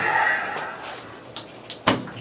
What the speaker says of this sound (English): pop my little door open here.